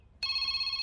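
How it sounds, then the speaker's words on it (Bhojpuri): An electronic telephone ring starts abruptly and holds a steady, bright multi-tone chime, close and clear with no talking. "शिवानी के फोन"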